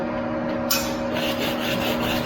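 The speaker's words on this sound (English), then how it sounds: "Cleaning off that flux." Flux being scraped and brushed off a fresh weld bead laid by a new welding machine, a continuous close, dry rasping scrub that starts sharply just under a second in and keeps going over a steady low hum.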